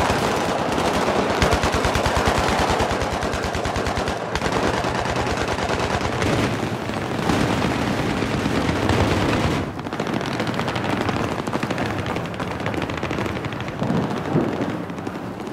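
Dense automatic gunfire in Battlefield 3 rattles nonstop in rapid bursts, loud and close, with explosive booms mixed into the barrage.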